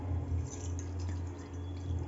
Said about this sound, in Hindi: अब हम एक बड़े बर्तन में ठंडा पानी लेंगे।